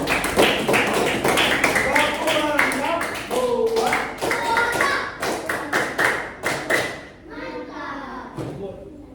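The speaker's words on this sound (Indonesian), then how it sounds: "sekarang berikan tepuk tangan yang meriah untuk kelompok 1" Classroom applause for presentation group 1, with scattered hand claps and taps mixed among children's voices and chatter, fairly close and lively for most of the stretch.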